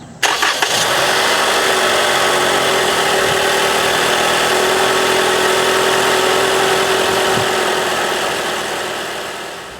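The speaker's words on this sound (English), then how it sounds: "Let's go run this engine. Let's hear it run" A modern Toyota engine runs steadily right after an oil change, starting with a brief crank and catch, then holding a loud, even idle with a faint tonal whine throughout, no voices.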